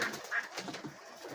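Pigeons cooing with brief wing flutters while a snake raids their nest, a couple of short soft coos standing out over a faint rustling background.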